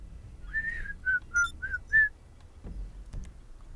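A person whistles a short tune of five bright, clear notes, followed by faint background sounds.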